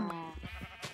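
Sheep bleats from a Minecraft video game, a couple of short nasal baa calls close by with a faint game sound at the end, no talking.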